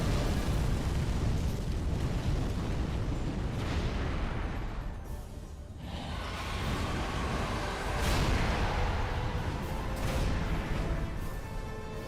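A roaring fire attack blast in Dark Souls 3 during the Nameless King fight: a sustained, loud rushing surge of flame and explosive rumble that dips briefly midway, then swells again with crashing bursts.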